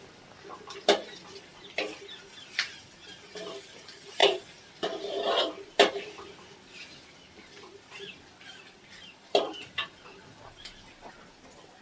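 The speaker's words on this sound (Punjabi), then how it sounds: "ਹੁਣ ਜਿਹੜੇ ਪਿਆਜ਼ ਆ ਆਪਾਂ ਇਹਨਾਂ ਨੂੰ ਲਾਈਟ ਬਰਾਊਨ ਹੋਣ ਤੱਕ ਪਕਾਵਾਂਗੇ" Onions cook in a pan until light brown while a utensil stirs them, making irregular clicks and scrapes with scattered louder knocks over a quiet background.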